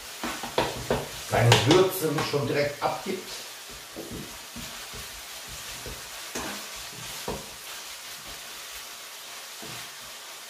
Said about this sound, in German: Als erstes tue ich mal hier Knoblauch rein, ein bisschen anbraten